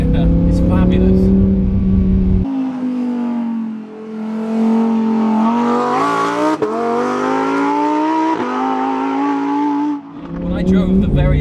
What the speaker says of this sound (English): But those downshifts, man, it just has me shifting when I don't even need to.